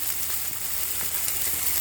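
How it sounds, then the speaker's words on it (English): About half a kilo of herbed chicken breast sizzles in a frying pan, a dense, steady crackle that fills the brief stretch with no talk. "So we're ready to put this in the pan. You can hear the sizzle."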